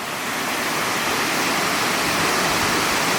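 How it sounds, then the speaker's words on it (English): Large waterfall in the wild, a loud, continuous broadband roar of falling water heard close by, steady throughout with no talk. "we found a pretty large waterfall"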